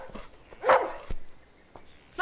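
A single dog bark rings out sharply amid faint background noise, with a couple of softer brief sounds around it.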